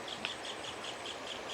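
A small bird repeats short, faint high chirps in a steady rhythm at a peaceful lakeside campsite in Famy, Laguna, over a soft hiss of outdoor ambience.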